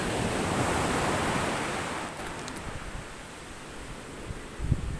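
Sea waves break and wash onto the shore at Baybay, a broad rushing surge that swells and then slowly recedes, with a few faint nearby knocks and no talking.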